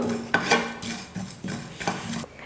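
Whole spices and cinnamon stirred in a pan on low flame for mutton biryani, with repeated scraping, clinking strokes of a utensil against metal in short bursts, close and fairly loud.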